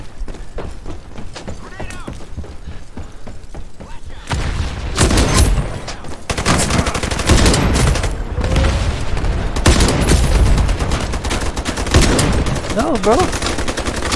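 Rapid gunfire from the online shooter Ironsight crackles in dense, loud bursts across the whole stretch, growing heavier partway through, while a player talks briefly over it.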